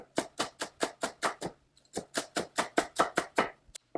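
A knife slices green onions thin on a cutting board in quick, even taps, about a dozen crisp strokes, a short pause, then another rapid run of close, clean chops.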